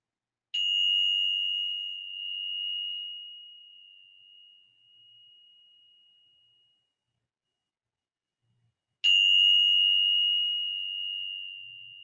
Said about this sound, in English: So I'm going to ring this bell 3 times.